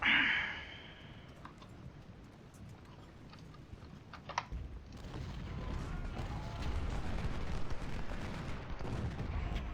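Civil War artillery and rifle volley fire in Ultimate General: Civil War, a faint opening burst followed by scattered distant shots and then a low, continuous rumble of massed gunfire.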